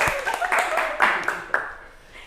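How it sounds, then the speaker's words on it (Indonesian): A school class gives a short round of clapping during a microteaching lesson, several sharp claps close together over about two seconds, fading at the end, with a voice speaking underneath. "Mari tepuk tangan."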